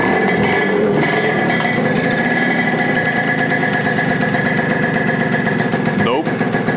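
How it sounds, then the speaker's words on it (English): A Yamaha RD50 'Kenny Roberts' motorcycle under electrical repair runs loudly and close, its small two-stroke engine holding a steady, buzzing idle with an even high whine throughout. "Let's just plug this in and try to fire up the bike"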